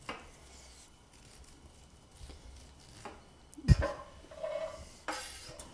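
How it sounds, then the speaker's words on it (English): A knife cuts the kernels off a corn cob standing heel-down on a board, making faint scraping strokes and then a sharp knock and rasping cuts near the end; quiet, close and without talk. "put the cob heel down on the board and slowly cut the kernels off"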